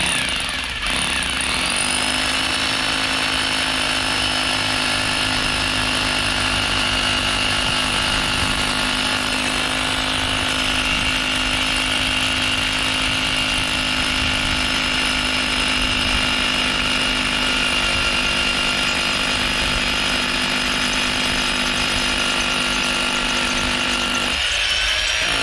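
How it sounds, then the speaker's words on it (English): Hammer drill boring into a concrete surface with a 14mm drill bit, a sustained loud grinding whine with steady rattling, running continuously for over twenty seconds before cutting off near the end, with no talking. "Now, the 14mm drill bit we use on this, again, can be bought from Screwfix or any"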